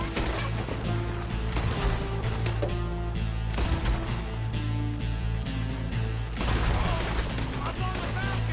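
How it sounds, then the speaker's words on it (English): Rapid gunfire and loud shots crackle through a Red Dead Redemption 2 shootout, dense and continuous over a steady game music bed, with bursts and impacts piling up and a heavier surge near the end. "We're shooting our way out of here"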